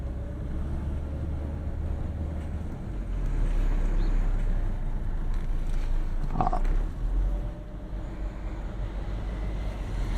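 A Mercedes W140 350SD with a six-cylinder diesel engine is driven on the road, heard from inside as a continuous low engine drone with road rumble and wind noise, swelling midway before settling back.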